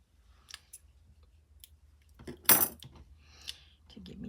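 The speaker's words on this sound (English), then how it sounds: "And we just need to snip" Scissors snip the end of a primrose stem with a single sharp close cut, surrounded by small handling clicks and rustles in a quiet room.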